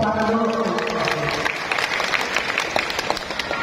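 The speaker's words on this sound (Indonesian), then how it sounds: "Tepuk dulu." Audience clapping at the opening ceremony of an open tournament in a Ketapang city mall, a crowd of hands applauding steadily for a few seconds with voices and music beneath.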